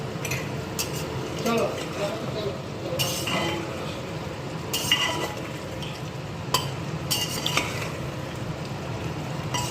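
A cooking pot of mutton curry being stirred, with metal utensils clinking and scraping at irregular moments over a steady low sizzle of frying, fairly close and continuous.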